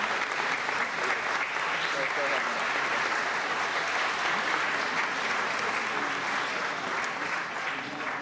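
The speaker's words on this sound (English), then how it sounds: "And we would welcome him with a round of applause." An audience at a city council meeting gives a long, sustained round of applause, even and continuous from start to end, with many hands clapping together in a large chamber.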